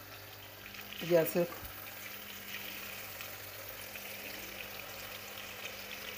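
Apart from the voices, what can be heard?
chicken pieces frying in a karahi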